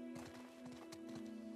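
Horse hooves clip-clopping at a steady walking pace in The Last of Us Part II, fairly quiet over a constant droning game background, with a faint whinny possible.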